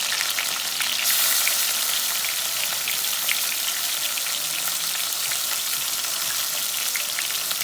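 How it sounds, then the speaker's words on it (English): Chicken frying in oil in a pot for Jamaican stew chicken, a dense, steady sizzle with crackling pops throughout, close and fairly loud. "Alright, so I have this fry for like 10 minutes, 10 to 15 minutes."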